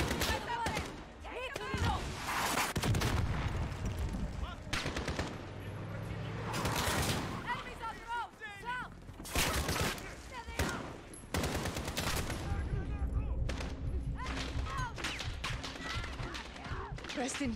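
Heavy gunfire from a strongly recoiling gun in Call of Duty: Modern Warfare (2019), loud rapid bursts and sustained volleys close by, with a person talking over parts of it.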